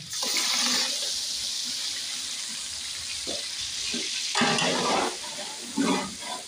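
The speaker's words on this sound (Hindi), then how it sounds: "हम इसकी अच्छी तरह बुनाई करूँगी" Chicken with onion, garlic and masala paste sizzles and bubbles in a pot while being stirred, a steady frying hiss with louder bursts of stirring and scraping near the end, close up with no talk.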